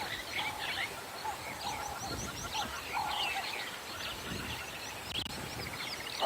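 Many weaver birds chatter and call around a dam at sunset on a safari, with busy overlapping chirps and buzzy notes over a low, steady background.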